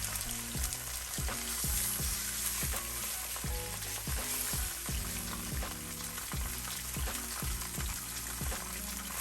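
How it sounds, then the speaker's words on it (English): A branzino fillet fries skin side down in a preheated pan of hot oil, making a loud continuous sizzle and crackle up close, with regular clinks and taps throughout and no talk. "into a preheated pan with hot oil, I'm going in with my Branzino skin side down"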